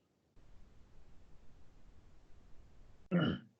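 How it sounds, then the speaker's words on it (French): A single short cough bursts out near the end, loud and close, after a few seconds of faint background hiss. "Je suis en train de vous tousser dans les oreilles."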